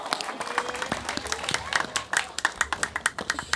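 Audience clapping at a Balinese Calonarang temple performance, scattered claps growing into a brisk, uneven burst of many hands, with voices talking over it.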